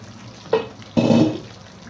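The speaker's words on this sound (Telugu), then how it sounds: "కొత్తిమీర అంతా మిక్స్ చేసేస్తాం" Coriander is stirred into an egg Mughlai curry frying in oil, with two scraping stirs over a steady, close sizzle.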